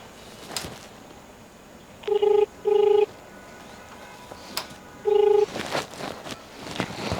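Three short electronic tone beeps, like phone keypad or dial tones, sound in a quiet room, two close together then one after a pause.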